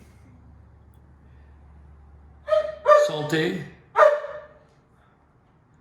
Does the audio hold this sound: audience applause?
no